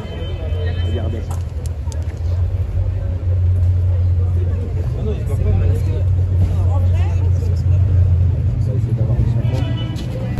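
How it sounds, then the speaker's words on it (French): An Audi RS6 ABT exhaust rumbles and revs at a car-spotting gathering, a loud low drone rising and falling amid crowd chatter, with people talking nearby. "Je sais pas si vous avez entendu le bruit de l'échappement"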